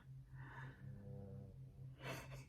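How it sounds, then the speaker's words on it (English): A small senior Shih Tzu snores steadily close by, a low rumbling rasp with soft snorting breaths, rising briefly into a louder snort near the end. "my cute little senior Shih Tzu who is snoring right behind you"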